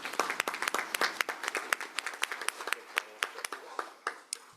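A small audience at an international tax cooperation meeting claps for a panel, sharp separate hand claps in an uneven patter that thins out toward the end, close and unaccompanied by speech.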